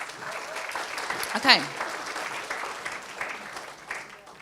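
Modest audience applause at a breakfast briefing on storytelling, clapping fairly quiet and even beneath a brief spoken word and some nearby movement.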